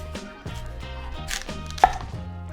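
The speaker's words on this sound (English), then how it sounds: "Cut those off from the bulb and then cut off the root end." A knife cutting through a fennel bulb on a board, a few close crisp chops and slices with a sharper knock near the end, no talk.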